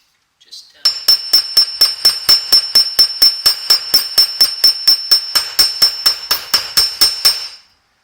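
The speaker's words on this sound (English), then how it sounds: "I take my hammer, and all I'm doing is flattening out the top" Rapid, evenly spaced metallic hammer strikes flattening a rivet top, about twenty in steady rhythm, loud and close, each with a ringing tone that carries between blows.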